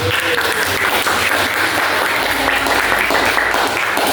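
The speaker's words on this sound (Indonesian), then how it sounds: "Berikan tepuk tangan dulu" Loud, close round of applause from a class audience, dense steady clapping sustained across the whole stretch with a faint voice briefly underneath.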